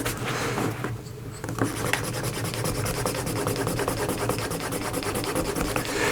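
A leather belt edge is burnished by hand, making a continuous brisk rubbing and scraping that repeats in quick strokes, close and fairly loud, with a brief lull near the start.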